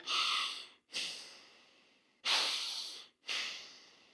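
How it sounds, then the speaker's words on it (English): Nasal breathing during a core exercise: four strong breaths through the nose, each a loud airy rush that starts abruptly and fades, separated by brief pauses, close and alone without speech. "From here, I can nasal breathe."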